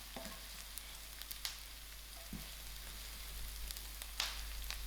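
Cumin seeds fry with softened onions in a pan, making a quiet, steady sizzle punctuated by a few brief scrapes and taps of stirring.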